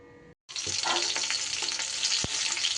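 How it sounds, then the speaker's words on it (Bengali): Rohu fish fries in oil, opening with a short quiet moment before a loud, close, continuous sizzle breaks out, dotted with crackles and a sharp knock near the end. "এদিকে মাছও কিন্তু আমার খুব সুন্দর করে ভাজা হয়ে গেছে"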